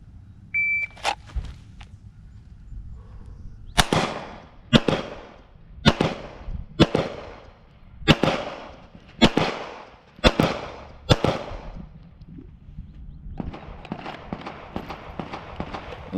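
A handgun fires eight rounds from a kneeling position at the 25-yard line during a law-enforcement qualification, with sharp, loud, evenly spaced shots about one second apart, plus two earlier distant pops and no talking.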